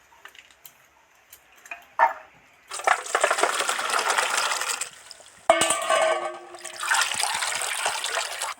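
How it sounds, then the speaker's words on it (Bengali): Chopped cauliflower, potato and peas are strained out of water in a home kitchen for veg momos, giving bursts of rushing, splashing water with light clinks between them and no speech. "জল থেকে ছেঁকে তুলে নিচ্ছি।"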